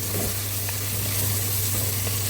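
Onions browning in hot oil in a pan while cooking chicken gizzard bhuna, a steady close sizzle and crackle with occasional stirring scrapes, over a low background hum and without talk.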